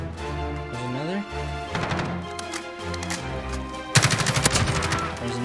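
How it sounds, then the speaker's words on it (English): A Kilo 141 rifle fires in a video game, a rapid burst of sharp shots near the end over steady tonal game sounds. "we'll fire another round."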